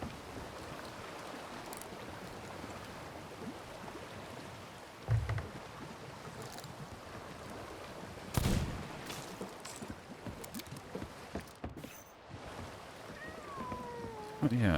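Fireworks in the pirate video game Sea of Thieves go off as a few scattered muffled bangs, with a faint rising whistle near the end, over a low ambient wash of sea and wind.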